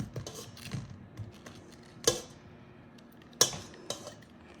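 Knife cutting through soft peeled peaches at close range, with a few sharp clicks and taps against a bowl over light kitchen handling noise.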